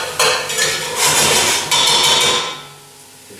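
Carrots and parsnips being stirred in a pot over medium-high heat, a utensil clattering and scraping against the metal in a few loud bursts, close by, with no talking.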